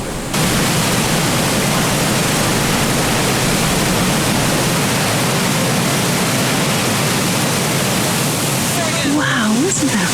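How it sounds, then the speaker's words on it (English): Nevada Falls in Yosemite roars as a dense, constant wall of broadband rushing water, loud and unbroken throughout, with faint sounds near the end. "listen to that roar of that waterfall. It is incredible. It is named Nevada Falls."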